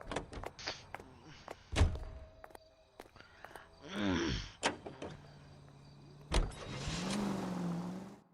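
A car in the video game L.A. Noire, with door thunks, clicks and engine revving that swells and fades as the car drives off, heard close and alone.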